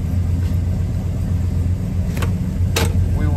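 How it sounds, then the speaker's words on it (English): A 1970 Oldsmobile Cutlass Convertible engine idles steadily up close, a low continuous rumble with a couple of brief sharper noises over it. "Very good running car."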